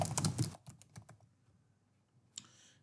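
Quick bursts of keystrokes on a computer keyboard during work in a ServiceNow developer instance, loud and close at first, then a sparse few taps, ending with another short flurry of clicking.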